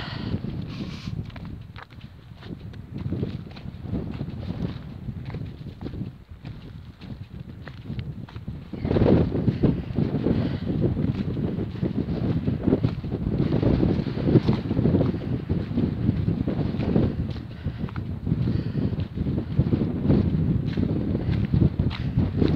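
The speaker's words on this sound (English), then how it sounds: "hopefully that wind will ease off a little bit" Strong wind gusts across open moorland on a hill walk toward Black Hill in Yorkshire, a steady, loud roar that batters the microphone, with footsteps crunching along the path underneath.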